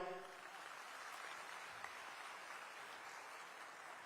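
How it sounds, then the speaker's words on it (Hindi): Faint, distant clapping from an audience at a government event with Chief Minister Vishnu Deo Sai, where compassionate appointment letters were handed to families of deceased employees, a low, steady patter throughout. "आप मन जोर से ताली बजाओ भाई"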